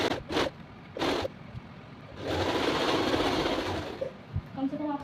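A sewing machine stitches a strip onto a kurti, running in one steady whirring burst of about two seconds, with short knocks and handling sounds before and after.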